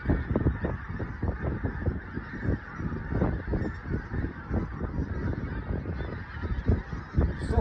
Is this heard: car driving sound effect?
no